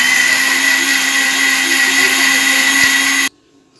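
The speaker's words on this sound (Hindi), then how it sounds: "एक जार लेते हैं मिक्सी का, उसमें इसको डालते हैं, एक ग्रेवी तैयार करते हैं एक अच्छी से" An electric mixer grinder whirs steadily as it purées a mushroom gravy in its jar, a loud continuous whine heard up close that cuts off abruptly near the end, with no talking.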